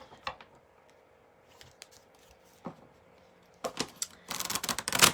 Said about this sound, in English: Just gonna shuffle some cards.